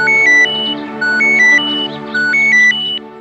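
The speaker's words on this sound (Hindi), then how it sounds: "इंस्पेक्टर कदम का फोन है।" A phone ringtone plays a repeating electronic melody, three identical phrases in quick succession, loud and close with no voices.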